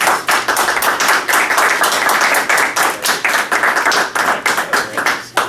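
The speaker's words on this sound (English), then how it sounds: "we'll give you a round of applause." A council meeting audience gives a round of applause, dense steady clapping from many hands filling the room for several seconds, loud and close with no talk over it.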